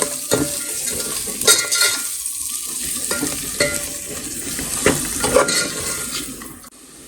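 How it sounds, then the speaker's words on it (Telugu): A spoon stirs biryani masala and garam masala through sizzling contents of a pan, producing soft scraping strokes and occasional metallic clinks over a steady frying hiss, close and moderately loud. "కొద్దిగా బిర్యానీ మసాలా, గరం మసాలా వేసుకొని దీన్ని ఒకసారి చక్కగా కలుపుకోండి"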